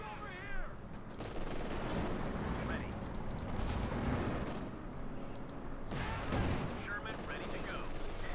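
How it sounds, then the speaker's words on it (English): Machine gun fire in a Company of Heroes 2 battle rattles in dense, sustained bursts under booming explosions and a steady roar of combat, with a voice talking through parts of it. "Machine gun bang for Angreifen."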